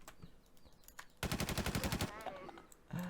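Rapid video game gunfire at a boss, a dense burst of repeated shots lasting over a second, loud and close, with quieter background game sounds before and after.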